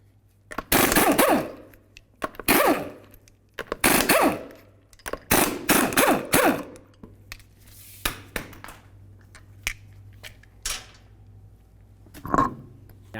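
Impact wrench removing 19mm lug nuts from a 2002-2006 Honda CR-V, firing in loud rattling bursts of a second or so with short pauses between them, then a few lighter clicks and a final short burst.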